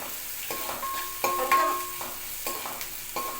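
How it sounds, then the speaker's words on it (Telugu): Garlic sizzles in hot oil in a pan while being stirred to a golden colour for an amaranth-leaf and moong dal curry; a steady frying hiss carries repeated scraping strokes of the spoon, close and fairly quiet, with no talk. "గోల్డ్ కలర్ వెల్లిపాయలు కొంచెం గోల్డ్ కలర్ వచ్చే వరకు వేగనివ్వాలి"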